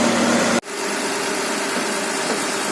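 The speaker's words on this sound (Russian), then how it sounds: "Двигатель шепчет просто. Очень мягенько работает." Mitsubishi Pajero engine idles smoothly after a timing belt replacement, a steady, even hum close by that cuts out for an instant and then settles back to a constant drone.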